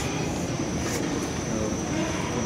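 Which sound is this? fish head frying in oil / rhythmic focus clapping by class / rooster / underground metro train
underground metro train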